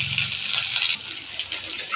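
Chopped small and large onions dropped into hot oil in a pan, giving a loud, continuous close-up hiss of sizzling with no talking.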